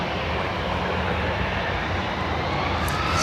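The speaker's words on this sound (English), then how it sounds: "So Aer Lingus off to Manchester" Aer Lingus jet departing Dublin Airport for Manchester, a loud continuous engine roar with dense broadband rumble that swells slightly toward the end.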